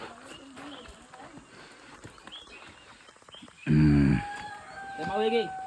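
A rooster crows in a Konkan village, a single rising and falling call near the end that is moderately loud and somewhat distant. Before it come scattered thumps and a short loud burst, and people talk in the background.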